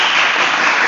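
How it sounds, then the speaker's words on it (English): A workshop audience breaks into applause, a dense, loud burst of clapping lasting about a second with no voices over it. "Round of applause."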